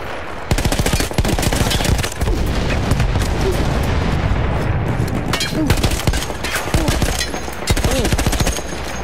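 Dense, continuous rapid gunfire fills the whole stretch, with bursts and booms layered together in a loud Battlefield 1 campaign firefight.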